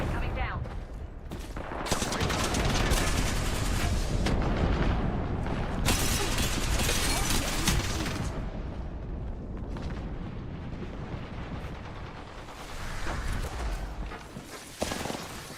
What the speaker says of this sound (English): Airstrike coming down.